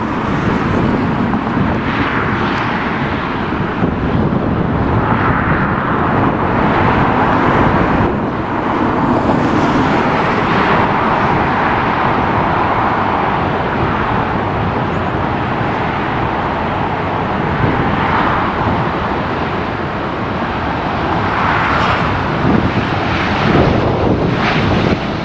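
An airplane passes at LAX airport as a broad, continuous roar mixed with strong wind buffeting on the microphone, sustained and fairly loud throughout.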